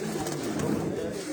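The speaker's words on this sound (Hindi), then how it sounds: "तो दोस्तों ये भी सारे परवाजी कबूतर हैं" Parwazi pigeons coo softly in a breeding cage, a low continuous murmur of overlapping bird calls heard close by.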